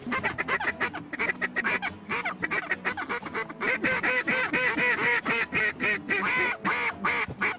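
Mallard ducks flush from cover during a duck hunt in New Zealand, with dense, loud overlapping quacking from many birds close by, continuing without pause.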